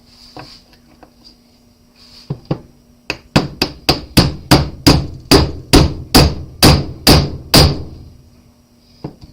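A 7/8 socket is hammered into a brake caliper piston: a few light taps, then about a dozen loud, sharp metallic strikes in a steady, even rhythm, close up, with no talk.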